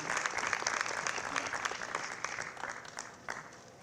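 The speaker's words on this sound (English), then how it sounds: "Let's give the mayor one more big round of applause" A crowd at a community center ribbon cutting applauds the mayor with steady, moderately loud clapping, a few sharper claps popping out as it gradually thins.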